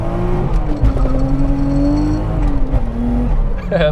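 A Toyota JZX100 Chaser engine revs loudly and climbs in pitch, dropping briefly between gear shifts, close and aggressive.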